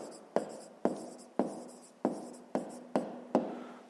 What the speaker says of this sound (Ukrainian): Ну і записуємо другий випадок